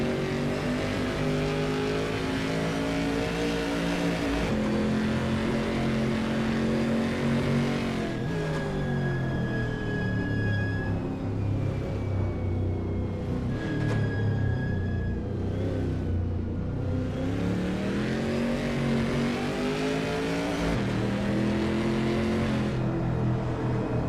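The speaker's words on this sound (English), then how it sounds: "That WSC60 Chaparral 2F looks good driving through Maison Blanche" A Chaparral 2F racing through Maison Blanche at Le Mans in a racing video game gives a loud, continuous engine roar with rising and falling revs as it shifts gears, close and dominant throughout with no voices.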